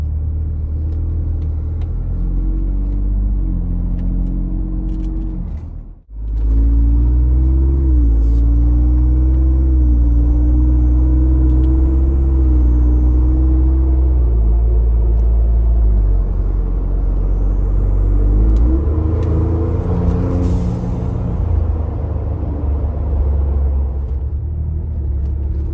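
A 2021-2023 Ford Bronco fitted with a Flowmaster American Thunder exhaust rumbles steadily at low cruising speed, then the engine note climbs as it accelerates, a loud, close, continuous drone with no talking.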